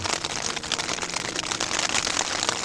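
Steady rain patters on a surface at a mountain bivouac by the Morgon lakes in the Mercantour, a dense, close, continuous hiss of drops with no voices.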